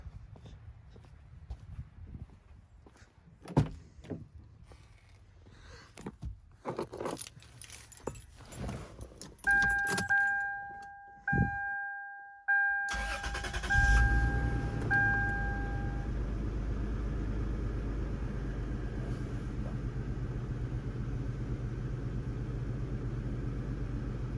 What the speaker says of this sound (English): I'm gonna start it and see if it is still misfiring.